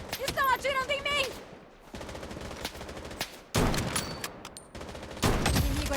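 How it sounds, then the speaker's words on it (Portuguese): Rapid gunfire in the Blood Strike shooter game, dense automatic bursts at close range broken by short pauses, with a voice heard in the first second. "Estão atirando em mim!"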